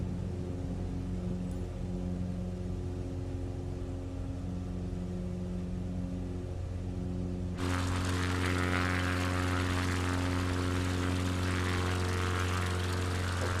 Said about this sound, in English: A one-person aircraft.